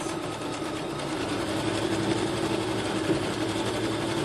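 A sewing machine stitches steadily with a fast, even hum and rattle at a moderate level, uninterrupted and with no talking.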